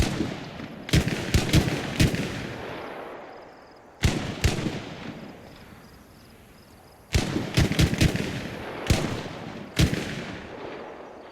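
Gunfire in the console DayZ video game: two bursts of several sharp, loud shots in quick succession, each followed by a fading echo and a quieter lull before the next volley.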